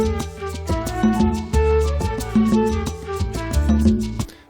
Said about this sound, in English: So the melody starts out in the flutes.